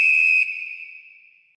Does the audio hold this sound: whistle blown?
yes